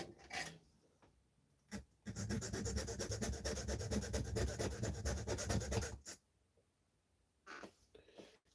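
Sandpaper rubs steadily against the end of a guitar part for about four seconds, with a dense, rapid back-and-forth rasp. Quieter handling and brief scuffs come before and after it.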